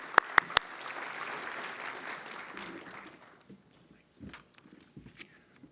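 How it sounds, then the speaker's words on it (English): Audience applause fills a hall at a hospitality technology hall of fame induction, steady clapping that fades out after about three seconds, followed by scattered footsteps and soft movement. "Let's give a round of applause to Ken."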